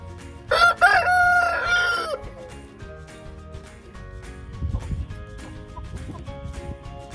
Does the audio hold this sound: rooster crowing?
yes